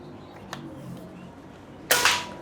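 A single sharp, loud shot from a Pasopati PCP air rifle cracks out after a quiet stretch, followed by a brief hissing decay.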